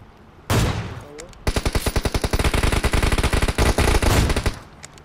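Automatic gunfire in the mobile battle royale BGMI: a loud single blast, a short pause, then a long rapid burst of evenly spaced shots that stops abruptly near the end.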